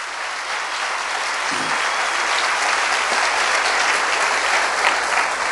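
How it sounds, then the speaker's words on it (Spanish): A church congregation applauds at a worship service, a dense, steady wash of clapping that fills the whole stretch at full strength without letting up. "Un aplauso al Señor."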